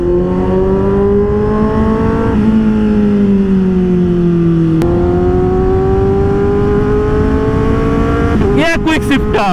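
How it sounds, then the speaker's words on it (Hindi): A heavily modified, very loud Kawasaki Z800 motorcycle revs hard and steadily close up, its exhaust note rising and dipping through gear changes, with a few sharp crackles near the end. "आप लोग बाइक का साउंड एंजॉय कीजिए।"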